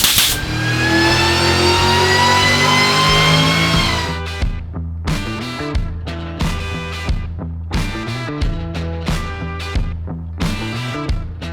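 A small LS V8 car engine on a dyno, set up for nitrous, holds a loud, high rev for about four seconds, then snaps through a rapid run of sharp, repeated throttle blips, close and alone.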